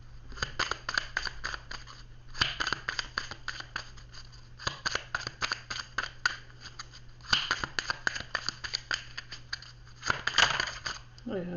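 Tarot cards shuffled and drawn by hand in repeated bursts of crisp, rapid flicking and riffling, separated by brief pauses, fairly quiet over a faint steady hum.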